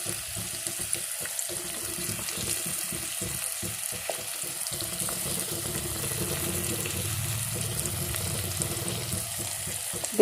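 Onion frying with salt in a claypot, a steady close sizzle and crackle that holds throughout, with some intermittent low clatter early on.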